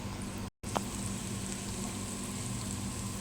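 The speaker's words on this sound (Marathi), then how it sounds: "ही धना पावडर हा थोडासा मसाला आणि छान मिक्स करणार आहे" Coriander powder and spices fry in a pan while being stirred, a steady close sizzle running throughout with a short gap near the start and a brief scrape just after it.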